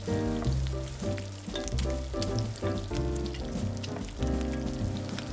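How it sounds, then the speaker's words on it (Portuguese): Pieces of bacon fry in olive oil in a pan, a continuous crackling sizzle with scattered pops, close and steady throughout, with no voices. "Deixe fritar bem esse bacon"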